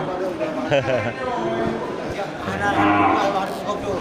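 Cattle moo repeatedly at a busy livestock market in Geurugok, Indonesia, the low drawn-out lowing rising over crowd chatter and voices close by.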